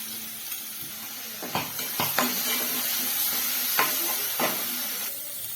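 Ground paste of green chili, curry leaves, coriander, ginger and garlic fries in oil, a soft steady sizzle broken by a few sharp spatula knocks and scrapes against the pan, close by.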